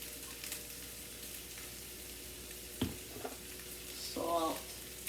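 Onions frying in a pan for a steak, peppers and onions hash brown dinner, a low steady sizzle with a sharp clatter and a brief burst of scraping as they are stirred.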